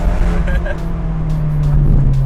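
An Abarth 124 Spider driven in normal mode gives off a steady low engine drone with a rising hum, heard from inside the car at close range, while someone talks over it.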